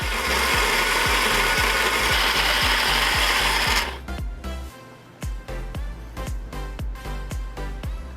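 Adjusting the grind setting on an Ascaso i1 coffee grinder: a steady, evenly spaced ratcheting click runs under loud grinding noise, then the grinding stops and the clicks continue alone, close and distinct.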